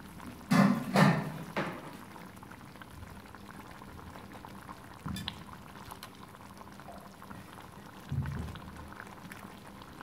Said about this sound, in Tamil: இப்போ அந்த மசாலாவை இதில் ஊற்றிடுவோம்.